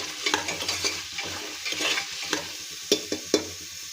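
Matar pulao made with Indrayani rice is stirred and mixed in a pan, with soft scraping and a faint sizzle, then several sharp spoon knocks near the end. No voices.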